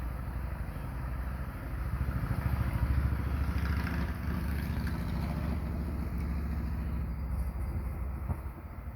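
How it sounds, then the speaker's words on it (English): A motorbike passing by outside, a steady rumbling engine drone that swells to a peak around the middle and then holds on, continuous and fairly loud with no talking over it. "got a bike going by"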